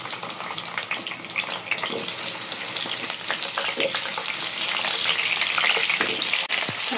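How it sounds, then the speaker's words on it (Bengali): Potatoes fry in hot oil in a pan, giving a continuous, fairly loud hissing sizzle that builds slightly and runs without a break and without speech. "আলুগুলো একটু ভেজে নিব।"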